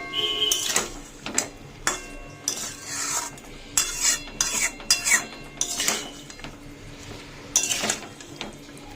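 Vegetables being stirred into a soup pot with a metal spoon, making repeated clanking scrapes and knocks against the pot in uneven bursts, close and loud with no talk.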